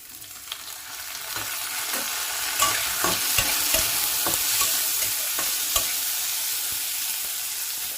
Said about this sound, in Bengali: একটা টমেটো কুচি আমি দিয়ে দিচ্ছি।